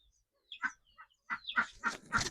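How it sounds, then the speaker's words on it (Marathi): Sparrow chicks in a nest give short high peeping calls in a few quick bursts, growing busier toward the end, close by and fairly clear. "3 का किती चिमणीची पिल्ले आहेत."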